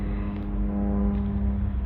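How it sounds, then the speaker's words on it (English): Airplane droning overhead above Waikaraka Cemetery, a steady low engine hum with tonal harmonics holding constant and loud throughout. "we've got a plane flying above"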